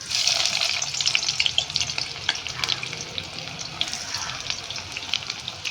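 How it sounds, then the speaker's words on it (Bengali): Thinly sliced onions frying in hot white oil in a kadai, a bright crackling sizzle that starts strong then settles, peppered with spattering pops and light stirring, no voices. "তা চলো অল্প অল্প করে পেঁয়াজগুলো আমি ভেজে নেব।"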